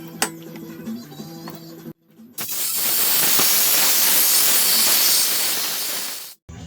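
A Homelite 2700 psi pressure washer with a Kohler engine lets out one loud, close, sustained hissing spray for several seconds, then cuts off abruptly.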